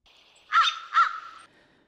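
Crows at Harbor Key in Port Alberni, Vancouver Island, give two loud, harsh caws in quick succession, close by over a quiet background.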